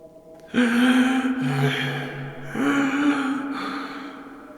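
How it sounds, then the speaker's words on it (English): Two long, strained wheezing breaths, each starting abruptly with a rasping, tonal hiss and slowly fading, heard close and alone in a horror setting inside an old WWII bunker. "A thought only interrupted by an awful wheezing noise."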